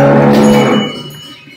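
A Holstein Friesian Jersey cross cow on a dairy farm gives a single loud, close moo that starts strong and trails off as it fades.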